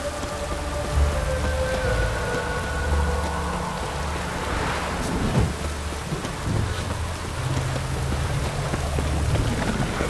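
Steady rain patters and hisses on surfaces in The Witcher 3: Wild Hunt, with low rumbles of thunder and a faint tonal hum underneath, continuous and fairly loud throughout.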